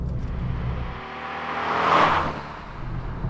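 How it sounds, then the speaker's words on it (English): A 2019 Fiat 500C engine revs up under acceleration, its note rising to a loud peak and then easing off, heard from inside the car without talk. "That is a cool sounding engine."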